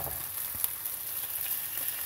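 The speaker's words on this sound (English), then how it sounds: "these are water bubbles of water vapor boiling off here" Tomatoes frying in hot oil as their water boils off, a steady close crackling sizzle that holds evenly throughout with one brief louder pop partway through.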